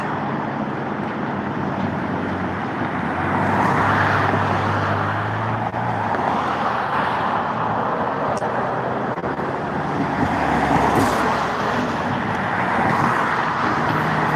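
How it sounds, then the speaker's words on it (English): Steady road traffic drones on a busy road as vehicles back up and nearly stop, a continuous broadband rumble of cars and trucks with a slight swell partway through, heard outdoors at moderate distance with no talking. "that traffic is starting to get backed up over there"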